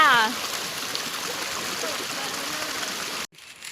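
Steady broadband rushing of a forest waterfall in Mae Wong National Park, Thailand, continuous and fairly close, with a brief voice at the start before the sound cuts off near the end.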